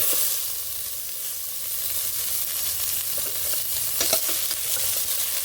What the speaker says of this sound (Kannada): ಇದಾದಮೇಲೆ ಆನಿಯನ್ನ ಹಾಕ್ಕೊತೀನಿ